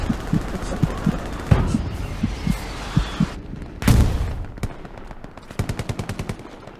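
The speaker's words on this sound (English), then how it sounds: "I can hear that shitty Russian machine gun over there somewhere." Rapid bursts of machine gun fire from a Russian machine gun in the World War II game Hell Let Loose, set at Stalingrad, ring out among other gunshots and booms, with a few distinct bursts at varying distances.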